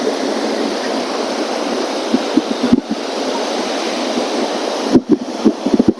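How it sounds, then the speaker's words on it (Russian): Strong storm wind and crashing surf on an empty beach, a steady loud roar of wind and waves with gusty bursts, close to the microphone and heard alone. "Прям сносит ветром."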